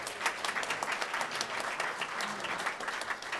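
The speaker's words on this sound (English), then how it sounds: "let's give them a nice round of applause again" Steady applause from a crowd at an Armed Forces Appreciation Day ceremony, many hands clapping continuously at a moderate distance without a break.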